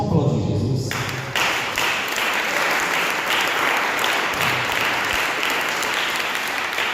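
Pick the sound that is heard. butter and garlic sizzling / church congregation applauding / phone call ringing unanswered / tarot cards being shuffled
church congregation applauding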